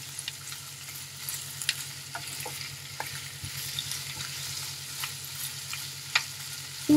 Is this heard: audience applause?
no